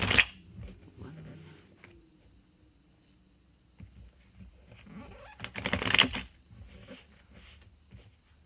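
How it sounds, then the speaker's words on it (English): Tarot cards riffle and flutter in a few quick shuffling bursts, close and crisp, separated by quieter handling noises. "I was just told to shuffle 5 times."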